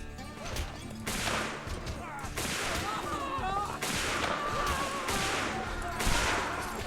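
Musket volleys crack and boom in a Mount & Blade Civil War mod battle, a dense run of overlapping gunshots firing at will, some near and loud, others distant, over continuous battlefield noise.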